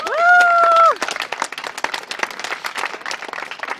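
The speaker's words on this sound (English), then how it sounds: "actually deserves a round of applause" Applause from a group rewarding a player's performance, a steady patter of claps that follows a brief held tone and continues through to the end.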